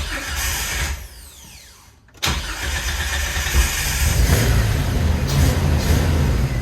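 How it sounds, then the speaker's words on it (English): A Jeep TJ Wrangler ignition being clicked to prime the fuel pump, with a brief whir and a drop-off before a loud steady engine-like hum starts abruptly and continues close. "I'm going to click this 3 times to get the fuel pump priming it."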